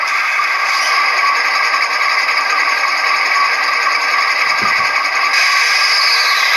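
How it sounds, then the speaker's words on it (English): Manual compressor sound effect from an ESU LokSound decoder in an HO scale Intermountain ES44AC model locomotive: a steady mechanical hum with a rattling, chugging rhythm, loud and close, over a faint background whir. "F11 turns on a manual compressor."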